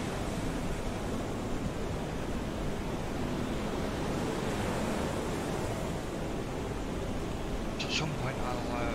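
Big ocean waves in the video game FAR: Changing Tides make a steady, broad surging roar of surf that fills the whole stretch without pause, close and constant.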